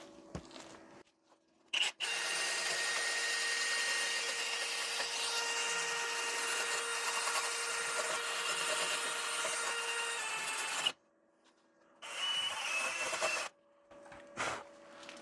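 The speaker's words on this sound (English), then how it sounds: "let's grind that off and see how I did" An angle grinder grinds off a fresh weld on a Ford Festiva core support. A steady, harsh, close grinding hiss runs unbroken for about nine seconds, then returns in a shorter burst after a brief pause.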